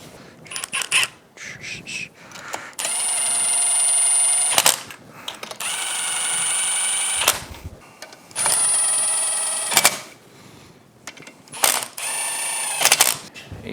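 A torque wrench tightening bolts on a Yamaha F225 outboard powerhead: close mechanical ratcheting clicks, broken up by sustained metallic ringing tones in several stretches.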